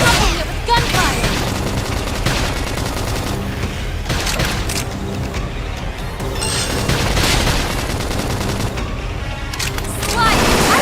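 Rapid bursts of gunfire and booming blasts in Xenoblade Chronicles X: Definitive Edition, loud and continuous, with voices talking over the action.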